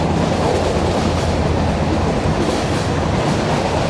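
A meter gauge passenger train runs through Gir Forest on the Junagadh to Veraval line, nearing Bilkha station: a steady, loud, close rumble of wheels and carriages that never lets up, with no talking.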